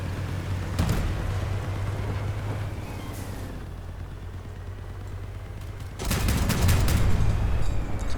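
Gunfire in Crossout vehicle combat, bursts of shots around the start and a dense loud volley near the end over a constant engine rumble, no talk.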